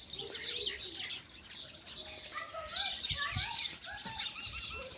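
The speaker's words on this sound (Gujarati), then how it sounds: "આ છે આપણા કબૂતર અને કબૂતર સળી ગોતી છે અને માળો બનાવે છે" Pigeons gathering twigs and building a nest, giving soft low coos mixed with chirps and brief rustles, moderately close and fairly quiet throughout.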